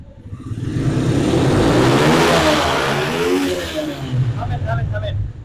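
A motorcycle engine fires up and revs loudly close by, the roar rising and falling, with people talking over and after it.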